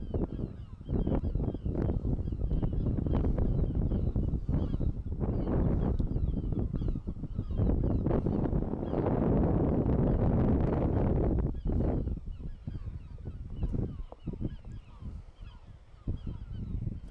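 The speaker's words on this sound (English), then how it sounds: "Congregation of birds down there." A large congregation of birds on the Isles of Scilly coast at St Martin's calls loudly, with dense, continuous goose-like honking and cackling, and wind buffeting the microphone before the calls thin out near the end.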